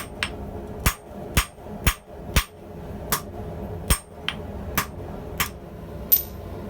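Hammer blows forging 3/4 inch H13 steel, about eleven sharp ringing strikes at a steady, slightly uneven rhythm, close and distinct over a low background hum.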